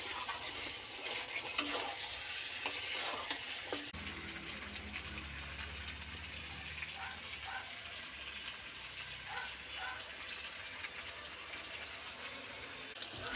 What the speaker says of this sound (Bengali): মাংসটা প্রায় কষানো হয়ে গেছে, একটু পরে জল দিয়ে দেব।